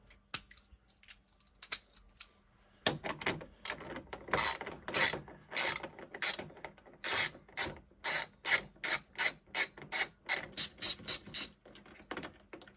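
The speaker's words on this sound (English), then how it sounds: "So I'm going to grab my 10 mil socket," A hand ratchet with a 10 mm socket backs out headlight bolts on a 2015-2017 Ford F-150, a close, dry clicking that starts in scattered bursts and then settles into a steady run of rapid, evenly spaced clicks.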